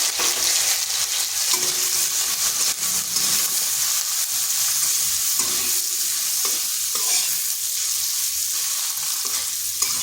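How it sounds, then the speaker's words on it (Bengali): Thin-cut potato and pumpkin strips fry with turmeric in a pan, a steady close sizzle with stirring scrapes running throughout and no voices. "আলুটাকে হালকা একটু ভেজে নেব।"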